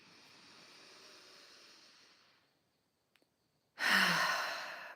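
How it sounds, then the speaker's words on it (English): A deep breath drawn in through the nose, then a brief pause and a big, forceful exhale out through the mouth, close and clear against a quiet background. "take a deep breath in through the nose and a big exhale through the mouth"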